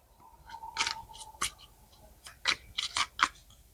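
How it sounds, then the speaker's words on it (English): Tarot cards slipping out and falling during a clumsy shuffle, a string of light papery slaps and flicks, close and fairly soft, with no talking. "those cards are just falling out. Bad shuffling on my part."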